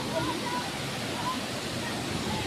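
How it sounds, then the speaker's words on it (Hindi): The Dodeng waterfall produces a dense, steady rushing roar of falling water, heard close and loud with no break. "ये है हमारा डोदेंग वाटरफॉल।"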